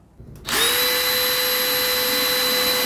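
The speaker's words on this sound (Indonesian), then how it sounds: "Speed 1 mode drilling." A DeWalt DCD805 cordless hammer drill spins up and drills at speed 1, starting after a brief click and settling into a steady, loud whine that holds evenly to the end.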